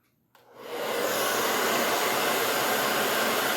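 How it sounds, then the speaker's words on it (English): After a click, a hair dryer starts up and runs at a loud, steady whoosh for a round-brush blow dry, its constant airflow roar close to the listener and heard alone. "the round brush blow dry"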